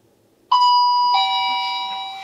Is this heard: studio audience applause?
no